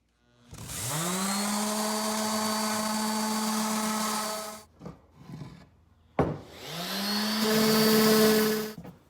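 A power sander works a wooden headboard in two long whining passes, with a brief scraping gap between them and a pitch shift in the second run, close and loud.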